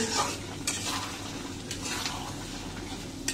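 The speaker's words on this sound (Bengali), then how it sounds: "আমি আলুগুলো মশলার মধ্যে ঢেলে দিব এবং মশলার মধ্যে আমি আলুগুলো কষিয়ে নিব" Potatoes sautéed in a spice mixture in a pan, with a steady sizzle of frying under repeated scraping strokes of a spoon stirring them, close and moderately quiet.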